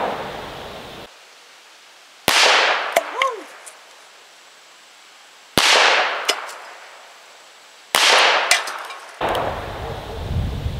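Ruger Blackhawk .357 Magnum revolver fired outdoors at a can: three sharp, loud reports spaced several seconds apart, each with a ringing tail and a faint metallic ping after the first, separated by quiet gaps.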